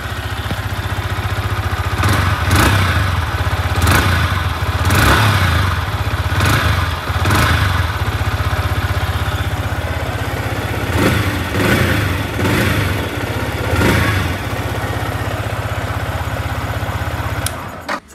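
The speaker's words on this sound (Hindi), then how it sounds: "अब थोड़ा सा बाइक को कर लेते हैं रेव।" A Yamaha R15M motorcycle engine idles loudly and close by, broken by about eight sharp throttle blips that rev up and fall back in a loose rhythm, with no talk.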